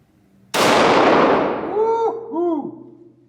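A Glock 41 Gen 4 pistol chambered in .45 ACP fires a single sharp, loud shot that rings out and decays. A voice follows briefly afterward.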